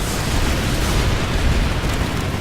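A rocket launcher explosion in the game Planetside 2 comes as a loud, dense, continuous roaring blast that fills the whole moment without a pause and has no voice over it.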